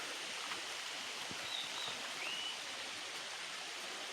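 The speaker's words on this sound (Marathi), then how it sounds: "पाऊस पण आला." Rain falling over a Konkan village path in Khed, a steady even hiss of drops, fairly faint, with a few thin bird chirps above it and no talk.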